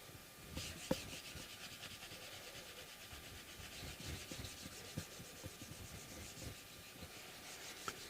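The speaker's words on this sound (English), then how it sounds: "So this grit is so fine now that I'm really not worried about scratching the fingerboard" Fine-grit sandpaper rubbing steadily back and forth on the fingerboard of a Martin guitar, a soft, continuous rhythmic scratching heard up close and fairly quiet.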